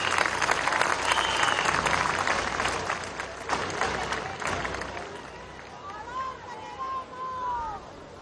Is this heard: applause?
yes